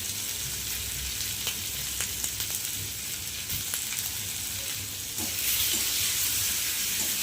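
A spice paste with turmeric, salt and tomato frying in a pan, a continuous close hiss and sizzle with a few faint scrapes of stirring, getting slightly louder near the end, no talking.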